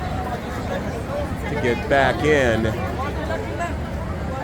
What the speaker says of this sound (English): And here is the rest of the crowd waiting